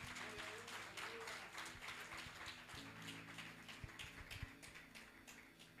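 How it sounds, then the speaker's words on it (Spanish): A church congregation applauds together during an anniversary service, a dense, sustained wash of clapping with scattered sharper claps, steady and moderately close throughout. "¿Quién le da un aplauso a Cristo de la gloria?"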